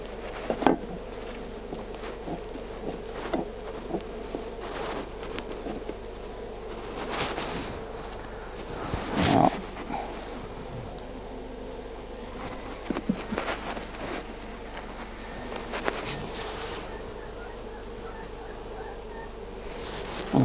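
Honey bees hum continuously during a transfer from a top bar nuc to a hive, a steady buzz with occasional knocks and handling noises of bars and comb, no speech.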